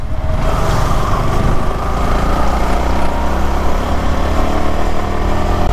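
The engine of a sports motorcycle drones steadily at close range while it accelerates sluggishly, with the wind loud over the sound and no clear rise in revs.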